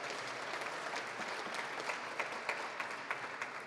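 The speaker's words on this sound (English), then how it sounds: "Let's give Barbara O'Brien a round of applause as well." An indoor community meeting audience claps steadily, a sustained patter of many hands at moderate distance without cheers or talk.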